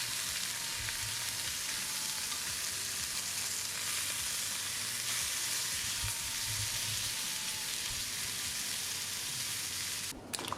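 Lamb chops frying in a pan give a steady, close, crackling sizzle that runs unbroken throughout, with no talking.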